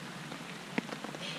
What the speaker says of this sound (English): See, right now, it's raining. You can hear it.